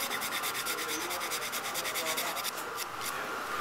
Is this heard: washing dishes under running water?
no